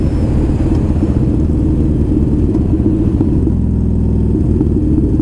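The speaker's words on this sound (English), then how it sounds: "It's an air-cooled 950cc twin." An air-cooled 950cc twin-cylinder cruiser motorcycle rides along, its loud, throbbing low exhaust note steady and close, with a deeper, smoother pulse near the end.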